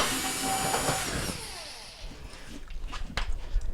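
A power tool drives out the Torx screws on the kick access panel of a Whirlpool washer. It whirs at high pitch for about a second, then spins down, followed by faint tapping and handling noises.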